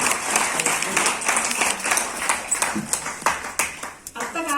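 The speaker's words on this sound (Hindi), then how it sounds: "हम सब अपने लिए एक बार ताली बजाएं।" Audience applause at a Gita seminar in Jaipur, a dense wash of many hands clapping together, loud and close, thinning out near the end.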